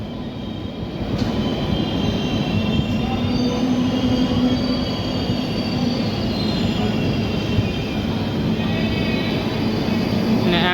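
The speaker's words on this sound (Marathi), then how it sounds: "आपली ट्रेन जी आहे ती दौंड जंक्शनवरून निघालेली आहे" The Hutatma Express pulls away from Daund Junction with a loud, steady rumble of wheels on rail, heard from inside a carriage, with faint squeals now and then.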